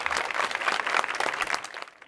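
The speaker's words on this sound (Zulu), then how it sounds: "ngizocela nishayele ihlombe nje kakhulu" A school audience bursts into dense, steady applause, many hands clapping together close by for the whole stretch before tapering slightly at the end.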